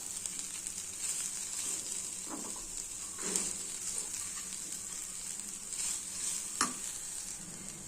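Grated beetroot curry with salt, chilli and a spoon of sugar sizzles steadily in a pan, a constant frying hiss broken by occasional scrapes of a spoon stirring.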